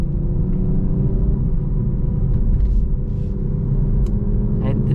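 A 2025 BMW M440i cruising down a road, its engine a steady, loud low rumble with road noise throughout, heard from inside the cabin with no talking over it.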